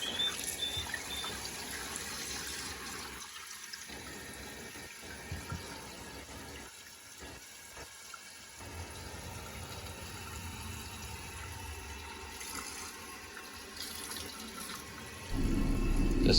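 Water steadily rushing and trickling as a toilet tank refills after a new Kohler flapper and fill valve are fitted, a continuous close hiss that swells louder near the end, with no talking.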